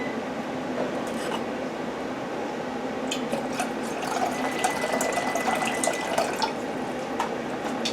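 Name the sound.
vinegar poured into a pot for pickling brine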